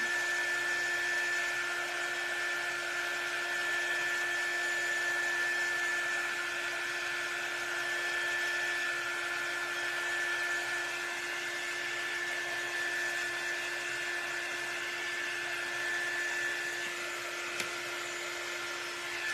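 A handheld dryer blows air onto wet paint on a handmade Highland cow craft sign, giving a steady, unbroken whirring hum that runs alone throughout.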